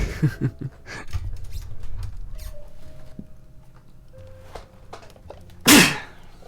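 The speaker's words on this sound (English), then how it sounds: "I had to sneeze so badly" Quiet shuffling and soft taps, then one sharp, loud sneeze bursts out near the end.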